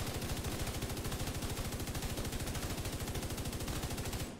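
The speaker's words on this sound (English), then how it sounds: "Now let's try out the MG5." An MG5 machine gun in The Division 2 fires one long, unbroken burst of rapid, evenly spaced shots, loud and close for over four seconds with no talking.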